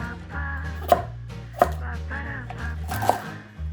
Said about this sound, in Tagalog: Ihanda ang carrots at hiwain ito ng pa-cubes.